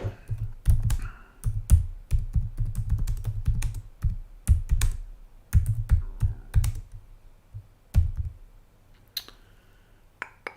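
Keys clack on a computer keyboard in irregular bursts of rapid typing, close and crisp, with short pauses between runs.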